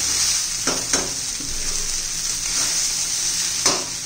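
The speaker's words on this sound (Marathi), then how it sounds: "आता शेंगदाणे घातले सगळं व्यवस्थित मिक्स करून घेऊया." Tomato potato poha with fried peanuts is stirred in a hot pan, giving a steady close sizzle with a few soft scraping strokes of the spoon, and no talking.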